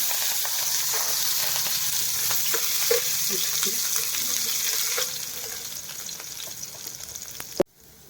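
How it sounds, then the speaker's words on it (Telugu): Green chillies frying in hot oil in a pan, a loud continuous close sizzle with a few soft crackles and stirring sounds, easing slightly before a sudden knock and abrupt quiet at the end. "మిర్చి సన్నం ఫ్రై చేస్తున్నా"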